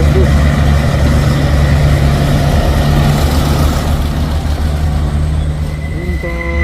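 A long trailer truck's heavy diesel engine drones low and steady nearby, a constant rumble that fades slightly near the end as a faint tone rises.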